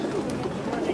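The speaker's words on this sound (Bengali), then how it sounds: "সিঙ্গেল পায়রা আছে" Soft cooing from Rampuri pigeons at a busy street pigeon market blends with close-by chatter and traders' voices in a short, steady stretch.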